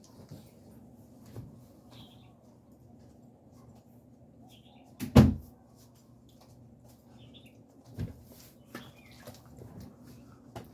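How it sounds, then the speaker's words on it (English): A door is pushed shut indoors with one sharp, solid thump partway through, surrounded by quiet room tone and a few small knocks and rustles. "I'm going to close my door so I can speak louder"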